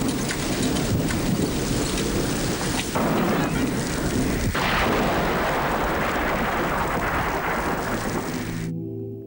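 Heavy rain pours steadily in a forest storm as rumbling thunder rolls and cracks through it, loud and continuous before it cuts off abruptly.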